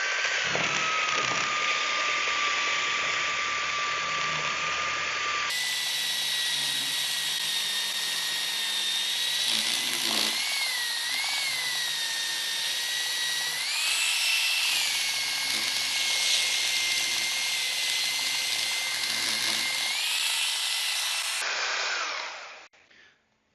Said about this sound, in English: Now I take belt sander, vacuum, and then I start